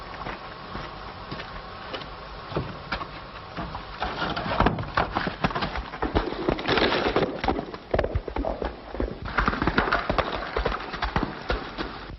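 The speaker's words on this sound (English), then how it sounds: "I'm going to ride that horse right now" Horse hooves clip-clopping at an uneven walking pace, getting louder and busier midway, with rustling and creaking mixed in.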